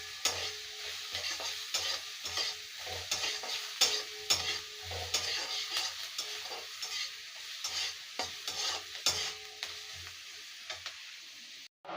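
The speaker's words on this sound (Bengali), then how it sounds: "দেখে পেঁয়াজটা ভাজা হচ্ছে" Chopped onions fry in a pan with a soft, steady sizzle, punctuated by repeated scraping stirs of a spatula, fairly quiet and close, with no talk.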